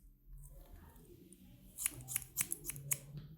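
Several quick metallic snips of scissors cutting long curly hair, a handful of crisp close clicks bunched in the second half after a quieter stretch.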